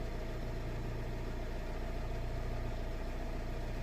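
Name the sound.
Nissan X-Trail engine idling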